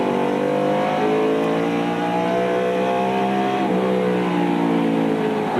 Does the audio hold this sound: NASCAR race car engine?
yes